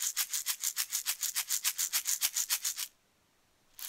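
A small egg shaker shaken in a fast, steady back-and-forth rhythm, bright close-up rattling pulses for about three seconds, then a brief silence before another shake starts, with no talking.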